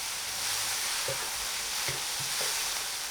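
Pickled radish and rice cakes stir-frying in a pan for char da kueh, with a steady close hiss of sizzling and a few soft scrapes of stirring, no talk.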